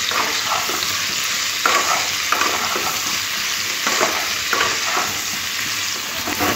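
Small new potatoes with salt and turmeric fry in a pan for a spicy alur dom, a steady close sizzle broken by several louder stirring scrapes and clatters, no voices.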